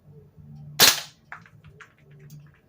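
An HK416D airsoft rifle fitted with a power-up suppressor fires a single loud, sharp crack close by, with faint mechanical clicks after it.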